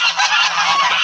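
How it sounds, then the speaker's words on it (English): Geese honking in a loud, continuous overlapping chorus, outdoors in mild winter weather, with no voices over the calls. "there are the stupid geese"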